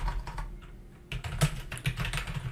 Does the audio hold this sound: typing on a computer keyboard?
yes